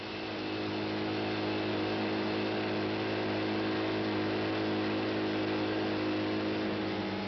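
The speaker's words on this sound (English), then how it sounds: "here's lightweight John on a weaving Norton at 85" A Norton motorcycle weaving at 85 mph, its engine a steady, loud, sustained drone with strong low harmonics, unbroken and alone throughout.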